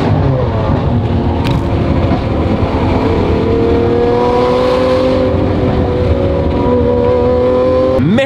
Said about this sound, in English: Whipping an SVJ through a tunnel is insane.